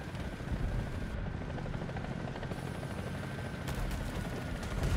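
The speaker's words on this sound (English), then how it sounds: "Look at the chopper!" A helicopter in a video game drones steadily throughout, its loud rotor and engine noise continuous and close, with a slight swell near the end.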